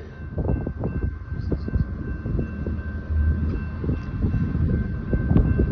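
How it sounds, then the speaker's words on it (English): BNSF dog food local freight train, only three cars, approaching a road crossing: a steady low rumble builds under a thin sustained tone, with gusty wind noise throughout. "Train's coming."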